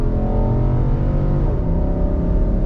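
A 2021 Nissan Armada SV SUV accelerates hard on throttle, its engine roaring loud and steady with a deep, continuous drone that builds throughout, with no talking.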